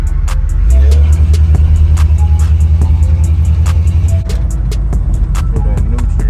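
A Chevrolet C10 truck's engine runs loud and close while driving, a deep steady rumble whose tone drops and settles after a few seconds, with clicks and rattles over the top.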